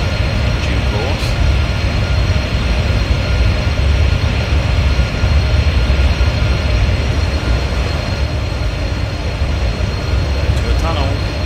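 A Chinese CRH2A high-speed bullet train in Train Sim '15 runs at speed, a loud, steady low rumble and rushing roar that holds constant throughout, with a faint voice talking underneath.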